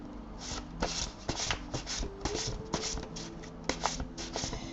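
Oracle cards being shuffled by hand during a French-language card reading, a soft, close papery riffling and rubbing that repeats in quick bursts for the whole stretch without any voice.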